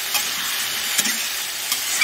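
Chopped green garlic leaves and coriander frying in a pan for a Bihari village meal, giving a close, continuous sizzle with brief stirring scrapes and no voices.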